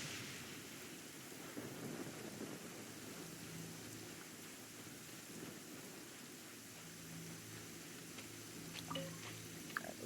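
A thunderstorm in Genshin Impact rumbles with steady rain and low thunder, with a few sharp crackles near the end that fit lightning strikes, continuous and fairly loud throughout.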